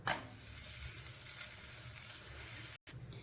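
Chapati cooking on a hot tawa gives a steady, close hiss of sizzling that runs throughout, with a brief cut near the end and no voices.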